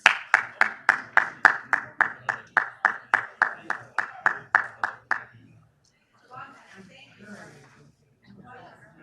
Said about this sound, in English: Let's give Ms. Prometa a round of applause